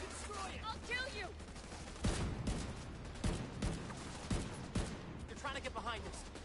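Minigun fire in the shooter game The Division 2 rattles in dense, heavy bursts with sharp booming hits, while someone talks over the shooting.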